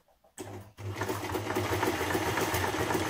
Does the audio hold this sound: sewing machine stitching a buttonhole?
yes